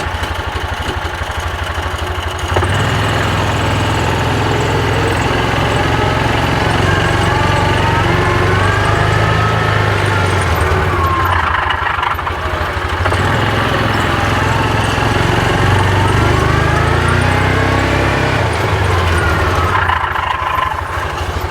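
A 2021 Axis 500 UTV engine runs loud and close with a steady droning rumble and a rough grinding undertone, its pitch rising and falling through a few brief dips over about twenty seconds.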